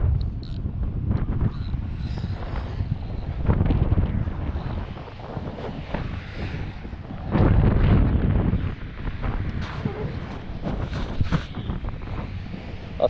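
Wind gusts across a sea wall at night while fishing, buffeting the microphone in heavy, uneven surges that swell and ease over the seconds, with no talking.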